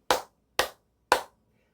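A church congregation clapping in unison during worship, three sharp, evenly spaced claps about half a second apart, crisp and close with silence between and after, no talking.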